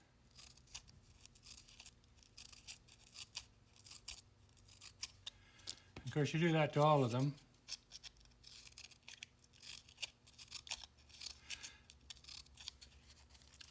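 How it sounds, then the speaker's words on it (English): Scissors snip through sanding strips meant for slow-speed sanding mandrels, a quick burst of several crisp, close cuts lasting about a second, set amid quiet room noise and brief speech. "So if you cut the sanding strips,"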